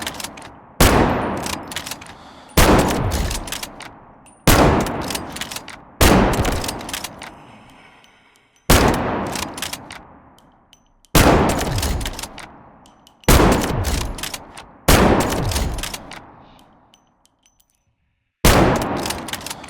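Gunfire from a rifle aimed down sights in the Delta Force Mobile shooter, heard as nine loud, sharp shots spaced about two seconds apart, each ringing out with a long decaying tail before the next.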